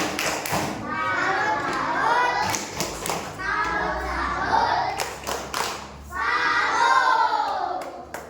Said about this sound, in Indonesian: Kita beri tepuk salut dulu ya.